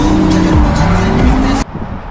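A drift car, a Nissan 350Z chassis, roars with a high-revving engine as its tires squeal continuously through a slide, loud and close, before cutting to quieter background noise.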